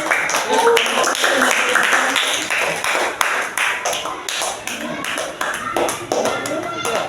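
A classroom of students claps for the first presentation group, a dense stretch of tapping hand claps running throughout with voices mixed in.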